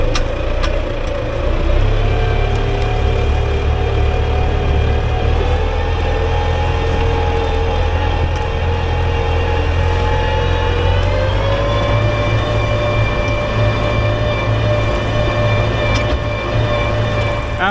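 An International Harvester 633 tractor runs steadily with a front-mounted blade, shoving sand to clear ground. The engine drones close and loud throughout, its pitch rising slightly partway through under load.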